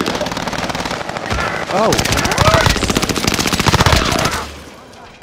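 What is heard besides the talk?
gunfire in a video game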